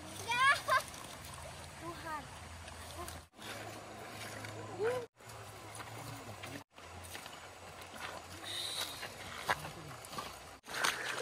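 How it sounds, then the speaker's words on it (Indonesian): Wading across a forest river on an overland route to Kali Biru in Raja Ampat, with sloshing, splashing steps and running water throughout, and people talking over the watery noise. "kita lewati sungai ya, mau nggak mau harus basah ya seperti ini"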